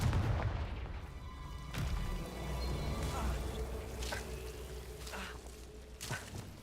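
A Confringo fire spell bursts in Hogwarts Legacy, a dull booming blast followed by a steady crackling, washing rumble that fades over several seconds amid faint game ambience.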